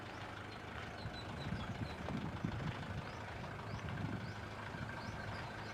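A 1990 Hindustan Motors Ambassador Nova idles with its bonnet open, giving a steady, fairly soft engine rumble that continues evenly throughout without talking.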